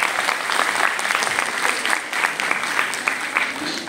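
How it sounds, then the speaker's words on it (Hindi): Applause from an audience of artists at a dance festival clapping for themselves, a brief steady wash of many hands with slight swells. "तो आप सभी कलाकारों तालियां बजा दो एक बार अपने लिए।"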